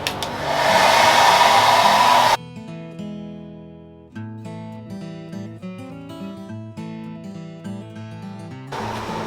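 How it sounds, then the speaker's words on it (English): Hair dryer blowing steadily and loudly to speed up glue drying on a Batman suit build, a broad continuous whoosh that cuts off abruptly, followed by music, then the dryer starting up again at the very end. "Hair dryer is a pro tip. This helps speed up the process significantly."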